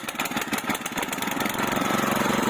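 A walk-behind tractor (motoblock) engine fitted with a cultivator catches and runs, a fast, even chugging that builds steadily louder up close with no talking.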